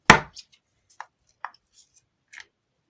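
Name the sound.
cracking open a Jurassic World Miniverse toy egg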